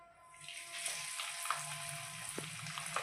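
Fish sizzling steadily in deep hot oil, catla and pomfret-style pieces, a dense continuous frying hiss with occasional pops and crackles, close and moderately loud with no talking.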